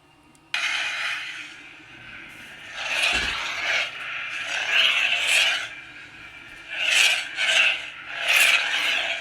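A custom Space Junk Sabers lightsaber running the Empress Palpatine sound font ignites with a sudden crackling blast, then gives a harsh, raspy hum that swells in repeated gritty surges as the blade is swung, close and loud with no talking.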